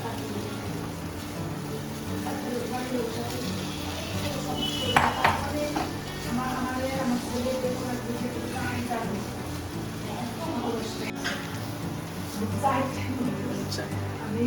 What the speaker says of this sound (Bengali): টমেটোটা দিয়ে ভালো করে নেড়ে চেড়ে কিছুক্ষণ সময় এটাকে নাড়তে হবে।